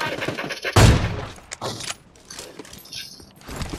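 PUBG Mobile gunfire during a squad match: a sharp loud burst near the start, followed by a few scattered, fainter shots and mechanical clicks amid quieter gaps.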